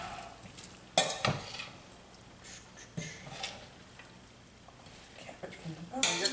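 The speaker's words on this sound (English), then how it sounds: "And I'm gonna mix all this cabbage and burger together." Chopped cabbage and ground beef are stirred together in a pot over medium to medium-high heat, with a quiet sizzle, sharp scraping and clanking strokes at intervals, and rustling between them.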